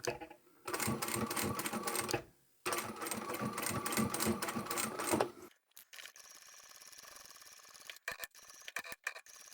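A sewing machine stitches fabric for a glasses case, running in two loud rapid bursts with a short pause between, then stopping for softer handling clicks and rustles.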